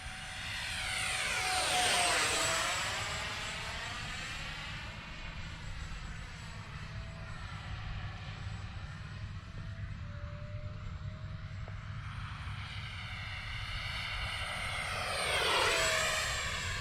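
An FMS F-16 64mm electric ducted-fan RC jet model makes full-speed passes, its loud whooshing whine rising and falling as it sweeps close by twice, with a steady roar between the passes.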